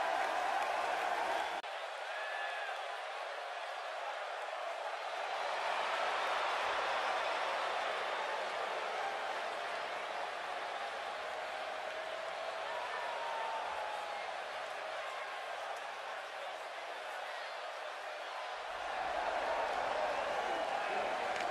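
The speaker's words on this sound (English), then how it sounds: "Sounds to me, guys, like this crowd is ready to get this night started" A large arena crowd at a live professional wrestling event in Phoenix roars and cheers continuously, a broad steady wash of noise at moderate distance under announcer talk.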